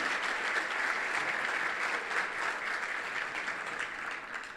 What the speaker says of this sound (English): how about we extend a round of applause to Conjunto La Colección?